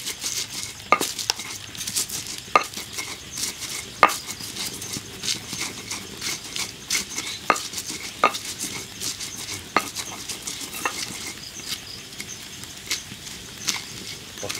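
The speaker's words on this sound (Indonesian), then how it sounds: "Terus langsung diulek." A stone pestle grinds and taps spices in a mortar for a country-style octopus dish from coastal Tuban, producing steady scraping with sharp periodic knocks every second or so, moderately close with faint kitchen background.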